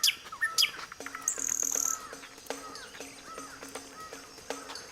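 Birds chirp in a forest, with repeated thin whistled calls in a steady rhythm and a few sharp high tweets at moderate distance, over faint background hiss and no talk.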